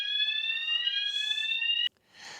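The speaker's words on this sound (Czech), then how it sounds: "asi 3:30 tady spustil požární poplach" A hotel fire alarm at night sounds a loud, steady electronic tone for about two seconds, then cuts off abruptly, followed by a faint hiss.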